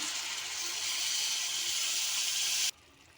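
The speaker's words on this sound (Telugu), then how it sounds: "ఇప్పుడు దీంట్లోకి వాటర్ని యాడ్ చేద్దాం." Steady rushing stream of water pouring into a cooking pan of paneer cashew curry for almost three seconds, close and fairly loud, then cutting off abruptly.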